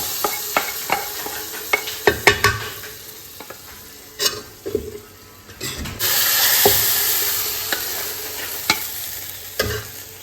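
Hot coconut oil with chili powder is tipped into a Kerala-style curry, bursting into loud sizzling. Before that, sharp clinks of spoon on pan and stirring, then a sustained hiss, with further scraping and taps after.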